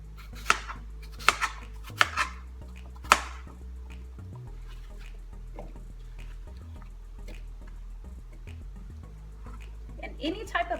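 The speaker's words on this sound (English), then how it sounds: "just dice them up" A knife dices Fuji apples on a cutting board: four or five crisp, separate chops spaced about a second apart, close and fairly quiet, followed by softer handling noises and a low hum.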